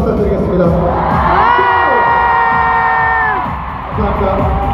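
A concert crowd of fans at a show in Seoul cheering and whooping loudly for the staff, with a dense roar of shouts and high-pitched screams filling the hall and a brief dip before swelling again.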